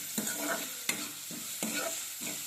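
Onion softening in a pot for a light, unspiced soup, a low frying sizzle punctuated by a series of rhythmic spoon stirs and scrapes against the pan, close and fairly quiet, no voices.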